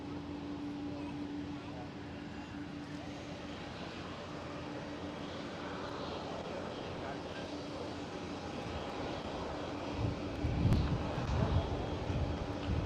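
A KLM Boeing 737 takes off at Amsterdam Schiphol, a faint, distant engine drone under a low murmur of voices that rises into a brief rumble near the end.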